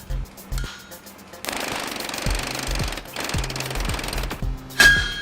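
Power trip hammer forging a sword blade, pounding in a steady rapid run of heavy metallic blows with brief pauses, loud and close in a smithy.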